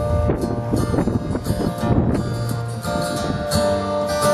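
Wind blows hard and steadily throughout, a loud, continuous rushing roar that surges in gusts, with no voices.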